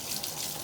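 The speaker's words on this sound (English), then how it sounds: "I'm going to put the stopper back in and let it fill up with water" Water runs steadily from a faucet into a bathtub with the stopper in, a continuous hiss of filling water with no talk.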